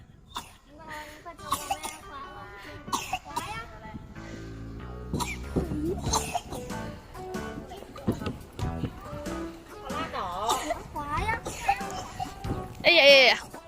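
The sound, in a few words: child coughing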